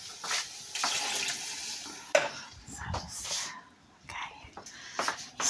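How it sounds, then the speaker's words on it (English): Tap water running into an empty tomato tin in a home kitchen while a budget curry cooks, a bright rushing splash with clinks of the metal tin, heard up close and broken by pauses. "I'm going to fill up the tin with some more water"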